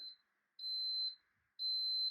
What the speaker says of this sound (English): the machine will beep again, signifying the brew is complete